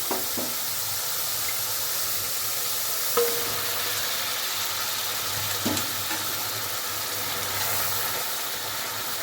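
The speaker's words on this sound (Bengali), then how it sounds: "মশলাটা ভালো করে কষিয়ে নিয়েছি, এবার দেব ভেজে রাখা আলু।" Fried potatoes are stirred into spice paste in a pan, a constant hissing sizzle close up, with a few distinct spatula clinks and scrapes breaking through now and then.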